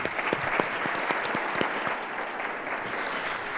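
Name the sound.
audience applause for panelists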